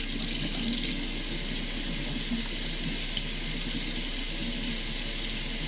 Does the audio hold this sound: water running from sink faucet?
yes